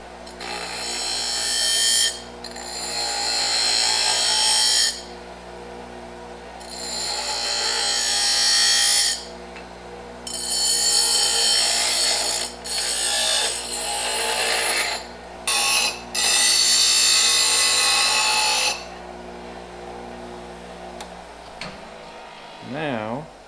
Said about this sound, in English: So time to go to the bench grinder and start working these things over.